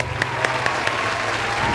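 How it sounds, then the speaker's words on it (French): One person claps for himself during an attic renovation, giving four or five quick, evenly spaced, close hand claps that then trail off. "Je m'applaudis."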